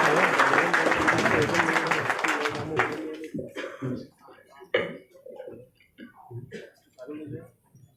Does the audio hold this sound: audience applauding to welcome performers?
yes